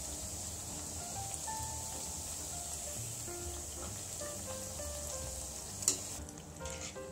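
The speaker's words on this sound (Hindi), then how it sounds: "पूरियों को हल्का सा गोल्डन ब्राउन होने तक फ्राई करना है।" Puris sizzle and fry steadily in hot oil, a constant bubbling crackle with a brief louder splash or stir near the end, no speech.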